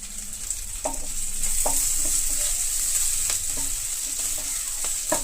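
Grated ginger sizzles steadily in a hot pan, a continuous bright frying hiss with a few soft stirring knocks scattered through it, and no voices.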